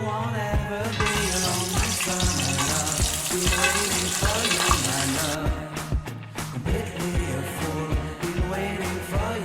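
Cashew nuts frying in homemade ghee, with a steady, loud sizzle and bubbling that runs continuously, then thins into lighter crackling with a few clinks near the end.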